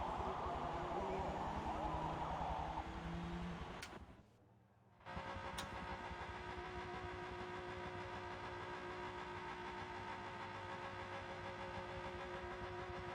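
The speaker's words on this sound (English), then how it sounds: "That is a loud engine." A historic touring car in a championship race sounds its engine with a steady mid-pitched drone, dipping briefly as if passing or cutting out, then resuming a constant whirring hum.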